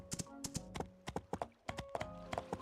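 Horse hooves clip-clop steadily in the video game My Time at Sandrock, a brisk, close, rhythmic series of sharp hoof strikes. The pattern pauses briefly midway and then resumes at the same pace.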